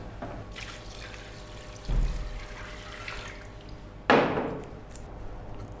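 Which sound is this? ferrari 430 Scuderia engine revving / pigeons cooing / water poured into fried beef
water poured into fried beef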